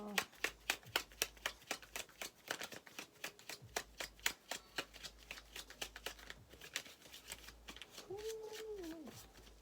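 Cards are shuffled in a long run of crisp, rapid flicks and taps, steady and close, with a brief voice near the end.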